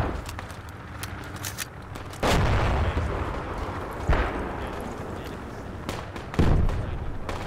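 An enemy tank firing in a combat game produces heavy, booming blasts, with two or three big thumps standing out over a steady rumble of distant gunfire and battle noise. There is no clear speech.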